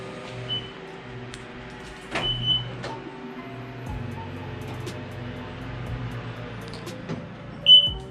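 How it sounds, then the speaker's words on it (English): A high electronic beep tone from a power tailgate kit's speaker on an Infiniti Q50/Q70 sounds a few times, brief and fairly faint, over a steady low mechanical hum and some clunks. "I know you guys all hear that beeping noise."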